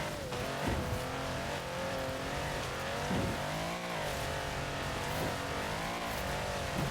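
A 6x6 off-road vehicle in Forza Horizon 4 drives through deep water and rough ground, its engine droning steadily and loud with rising revs and occasional tire scrub, no voices over it.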